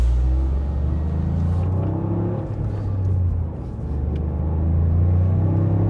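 Toyota GR Yaris engine running with a deep, steady rumble and slight swells in revs, heard from inside the car with no talking.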